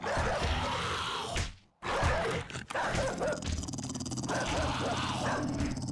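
A zombie dog in the survival video game 7 Days to Die barks and snarls amid dense in-game noise, harsh and fairly loud, broken by a brief silent gap.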